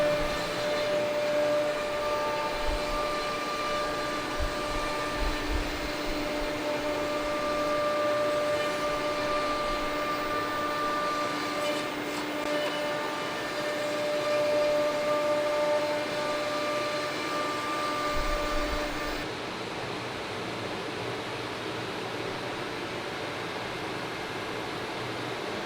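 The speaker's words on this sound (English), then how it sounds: "let's turn off this vacuum" A vacuum pump holds a workpiece down on a gasketed vacuum workholding fixture, running with a steady, loud mechanical whine and hiss for the full stretch, its tone shifting briefly near the end.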